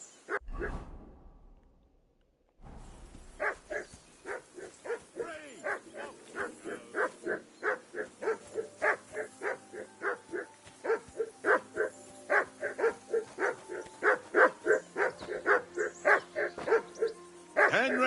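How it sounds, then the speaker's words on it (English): A dog in Kingdom Come: Deliverance 2 barks over and over in a steady, rhythmic string of sharp, fairly close barks. A brief rustle comes first, then a short silence before the barking starts. "Henry! Whistle at that mutt of yours to stop"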